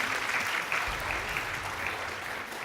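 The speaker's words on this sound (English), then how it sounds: "Let's have a round of applause." Audience at a junior insurance-awareness quiz grand finale applauds, a dense, steady clapping from a crowd in a hall, moderately loud and continuous for the whole moment without speech over it.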